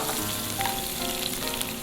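Diced small red onion sizzles steadily in a hot pan, a continuous crackling fry with faint stirring scrapes, close and moderately loud, no voices.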